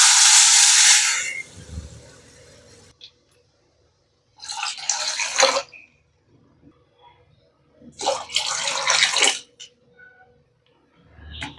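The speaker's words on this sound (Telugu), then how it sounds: "వాటర్ యాడ్ చేసేసుకుందాం." Water being poured into a cooking pan while making Annavaram prasad, sounding as several separate splashing pours with quiet pauses between them.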